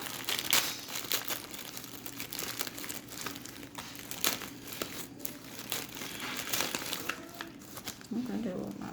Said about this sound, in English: I want to cut it and cut this bag.